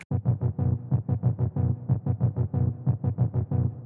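A plain, buzzy analog-oscillator synth patch in unison mode plays a steady run of short, evenly spaced repeated notes, about five per second, close and fairly loud with no voices.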